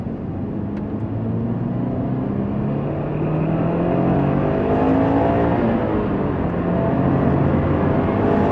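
The turbo engine of a 2000 Subaru Impreza STi GDB pulls hard on twisty roads, a loud continuous drone whose pitch climbs through the gears in rising sweeps, heard from inside the car.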